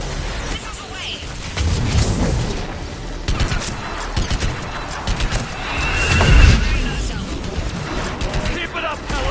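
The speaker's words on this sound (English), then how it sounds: "Missiles away." Missiles launching and exploding in the Mass Effect video game, heard as a dense, steady roar of blasts and rumbling booms with a heavy thump near the six-second mark, while radio voices talk over the din.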